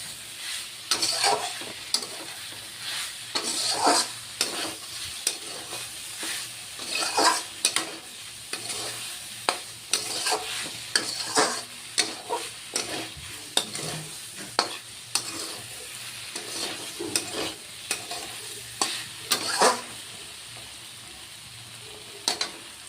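Potatoes and long beans cook on a low flame for a dry, spicy curry, with a soft sizzle under intermittent scraping stirs of a spoon in the pan, fairly quiet and close, with no speech.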